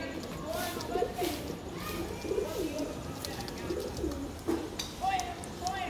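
Pigeons cooing close by in soft, repeated throaty phrases while someone talks over them.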